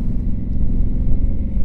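A 2020 Honda Africa Twin 1100 in tour mode rides along, giving a loud, steady low rumble of engine and wind noise with no break and no voices.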